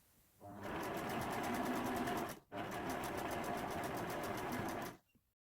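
A sewing machine stitches a border fabric strip onto a quilt top in two steady, rapid runs, a close, even mechanical whirr broken by one brief pause.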